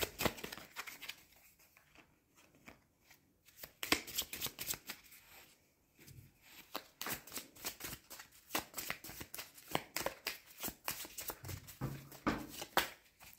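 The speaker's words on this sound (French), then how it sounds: "Alors, je vais tirer une carte." Tarot cards shuffled and drawn by hand, a close, busy run of rapid papery riffles and flicks lasting several seconds, with short pauses, no talk over it.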